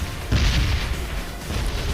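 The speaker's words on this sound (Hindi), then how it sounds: "रेड जोन हो चुकी थी, ऊपर से एकदम गोले बारूद गिरे जा रहे थे।" Red zone bombardment in a PUBG-style battle royale game on the Livik map: a deep, heavy boom bursts out after a brief lull, then a rumbling roar lingers and fades.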